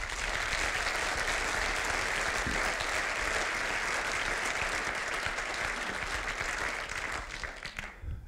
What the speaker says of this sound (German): Ich würde sagen, klatschen wir direkt weiter.